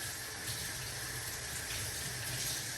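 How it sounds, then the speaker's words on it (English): Kitchen tap water running steadily over a cucumber being washed, a soft continuous hiss and splash at low volume with no pauses. "Just want to make sure you wash off your cucumber really good."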